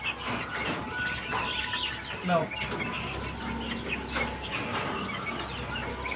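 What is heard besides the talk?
caged guinea fowl and chickens being fed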